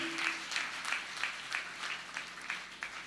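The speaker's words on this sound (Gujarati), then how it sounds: "હાથ ઊંચા કરીને તાળી પાડો, વધાવો શાસ્ત્રી મહારાજને" An audience at a religious discourse gathering claps in rhythmic unison to applaud Shastri Maharaj, with about ten evenly spaced, moderately loud claps heard alone.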